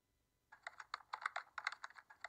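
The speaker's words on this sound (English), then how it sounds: "typing." Fingers tap quickly on a computer keyboard, a close run of crisp, irregular clicks that starts abruptly after a brief silence.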